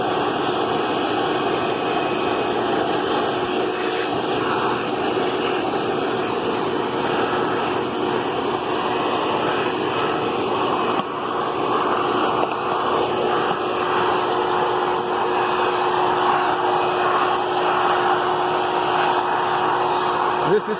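A Hoover PowerMax II vacuum cleaner runs continuously at close range, giving a steady loud whine and rushing airflow that holds level throughout, with no voices.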